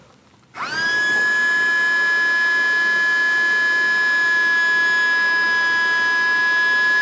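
A Henry desk vacuum fitted with a stage 2 turbo switches on abruptly and runs at a steady, loud whine, with a sustained high tone and broadband rush of air blowing out the back.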